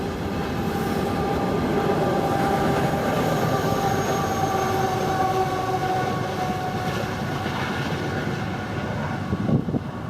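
A freight train rumbles past close by in Mittagong, Southern Highlands, beside an old maltings brewery, a steady heavy roar of wheels and cars with faint metallic squealing, continuous throughout.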